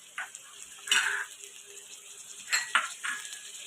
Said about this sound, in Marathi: आता आपण भाज्या घेतल्या होत्या त्या सर्व भाज्या एक एक करून टाकूया.